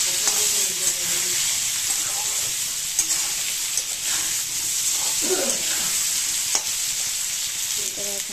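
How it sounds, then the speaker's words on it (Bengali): Potatoes frying in oil with tempering spices, a loud continuous sizzle close by, with occasional faint stirring knocks and a brief soft voice in the background. "আর এদিকে আলু ছেড়ে দিয়েছি আমি সম্বর দিয়ে।"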